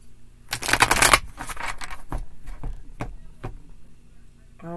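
Tarot cards are riffled and shuffled in a quick, crisp burst, followed by a few separate taps as cards are laid down on a table, close and fairly loud.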